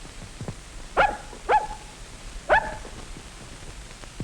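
A dog barks three times in short, separate woofs, at moderate distance, alone, against faint background hiss.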